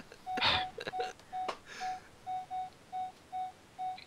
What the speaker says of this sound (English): I still hear the beeping.